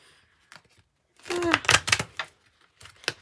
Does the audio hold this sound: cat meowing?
no